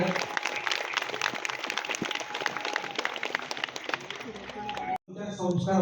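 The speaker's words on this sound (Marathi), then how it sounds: "त्यांच्यासाठी जोरदार टाळ्या वाजूया." An audience claps for a group of army jawans at a spiritual gathering, a dense, sustained patter of hands under voices and a cut to other sound near the end.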